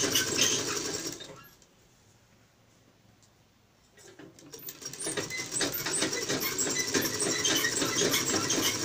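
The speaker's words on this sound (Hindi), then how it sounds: "ये देखिए ये हमने यहाँ पर स्टिचिंग कर ली है।" Sewing machine stitching fabric sleeves, a close, busy rattling hum that pauses for a couple of seconds and then resumes at steady speed with light clicks and squeaks, no one talking.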